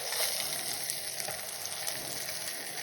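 Trout sizzling in butter in a pan while being basted, a steady, dense, close frying crackle with no voices.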